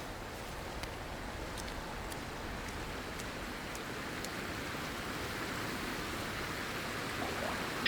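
Steady broadband rush of a waterfall in the video game Cairn, a continuous even wash of falling water with faint ticking accents, constant in level throughout and heard alone without talk.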